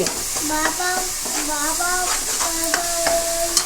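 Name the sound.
ginger garlic paste added to hot pan and stirred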